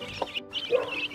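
An Araucana cross hen on a farm clucks nearby in a few short, throaty bursts, with other fowl chatter and faint rustling around her and no talking.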